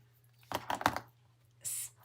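Scissors trimming ribbon: a few quick, crisp snips close by, followed by a brief higher-pitched rasping cut, with a low steady hum underneath.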